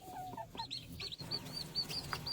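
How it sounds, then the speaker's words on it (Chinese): Small chicks peep in repeated high, thin calls near a duck sheltering them in cold rainy weather, with soft clucking mixed in. "我听到小鸡的叫声呢"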